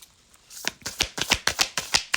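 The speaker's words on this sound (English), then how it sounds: "just shuffle these cards over and over again so they stop sticking together" Tarot cards being shuffled by hand: a quick run of about a dozen crisp riffling snaps in an uneven rhythm, close and clear, with no voice.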